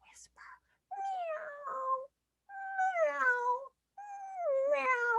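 A whispered human voice imitates a cat meowing, three breathy drawn-out meows in a row with short pauses between them, close and soft.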